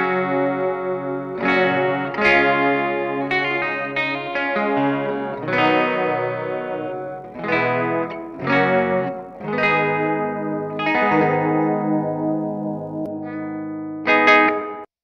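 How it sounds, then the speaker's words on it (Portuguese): Electric guitar run through a Super Vibe modulation pedal and reverb on a Marshall pedalboard, playing loud chiming chords and notes with a wobbling, swirling tone and lingering reverb tails, continuous with no voices. "O Super Vibe só tem um detalhe, que ele come muito sinal, mas quando eu coloco junto com o reverb,"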